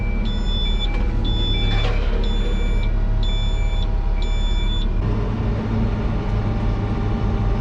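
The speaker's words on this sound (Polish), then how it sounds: "Teraz będzie pikać tutaj mi przeciążeniówka cały czas." A crane's overload warning alarm, heard while loading a Bizon, beeps in a steady string of five even pulses over a loud, constant engine rumble, then falls silent while the engine keeps droning.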